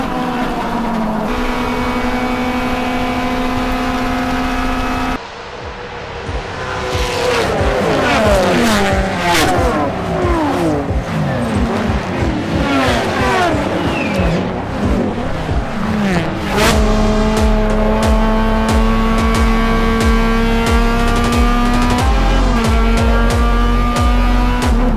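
A Honda Civic EG race car at full racing pace on a circuit during a championship race, its engine loud and close, revving hard through the gears with sharp shifts and sustained high-pitched wail, alongside other cars.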